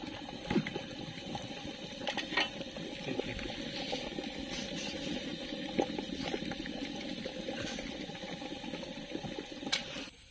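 Water bubbling at a rolling boil in a pot of eggs cooking in a village-style kitchen, a steady, faint, close bubbling with scattered pops and no speech.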